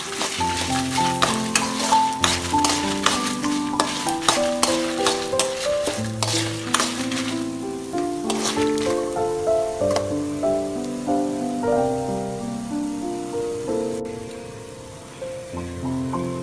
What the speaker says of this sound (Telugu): చిన్నుల్లిపాయలు, కరివేపాకు ఇవన్నీ వేయించుకొని పక్కన పెట్టి